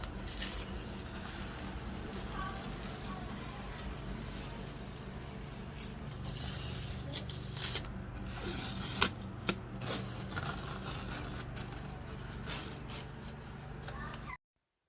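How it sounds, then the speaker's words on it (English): Painter's tape is peeled off a frame painted in dark black Waverly chalk paint, a steady close crackling and ripping with a few sharper snaps near the end before it stops abruptly. "I don't know what it is about removing tape that is so satisfying"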